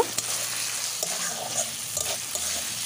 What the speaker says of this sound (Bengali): ওর মধ্যেই দিয়ে দিচ্ছি আলুগুলো। আলুগুলো দিয়েই আরেকটু কষিয়ে নেব।